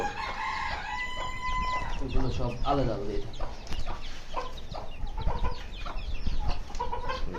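Chickens and roosters cluck and squawk continuously in an aviary, with a rooster crow near the start, while someone talks over the busy flock throughout.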